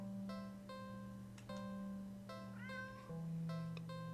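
A cat meows in a video game, several short tonal mews spaced across a few seconds over a steady low electronic hum and faint game music.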